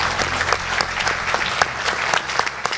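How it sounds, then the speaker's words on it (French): An audience at an awards ceremony applauds in a lively round, with individual sharp claps standing out over an uneven, moderately loud patter that lasts the whole time. "Félicitations à eux 4, vous pouvez les applaudir."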